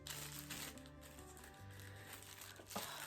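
Soft plastic crinkling and rustling close by as a small plastic bag from a new eyeglasses order is opened, a few seconds of handling with a sharper crackle near the end, no talking.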